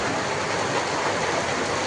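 Heavy monsoon downpour falls hard and without a break, a dense, close, steady hiss of rain pounding surfaces with no voices over it.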